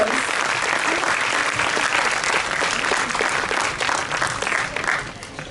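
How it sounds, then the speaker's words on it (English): An audience at a Model UN opening ceremony breaks into sustained applause, a loud, dense, continuous clapping that swells and ebbs slightly over several seconds with no speech on top. "So can we please have a huge round of applause?"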